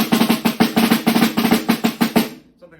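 A snare drum played with a run of fast notes in quick, steady bursts for about two seconds, close and crisp, then stopping with a short ring-out and a faint tap.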